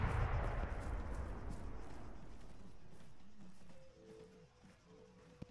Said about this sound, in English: we're heading towards the explosion from behind